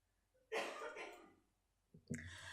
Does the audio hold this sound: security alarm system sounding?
no